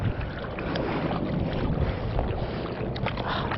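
A kayak paddles across Lake Natoma, with water splashing and sloshing steadily against the hull and light wind noise over it, close up and continuous, with no talking.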